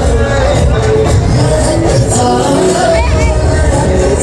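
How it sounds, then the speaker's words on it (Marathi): A large, dense crowd fills RP Road during the Ganesh festival, a loud continuous street din of many voices with scattered shouts and bangs throughout. "तुफान गर्दी"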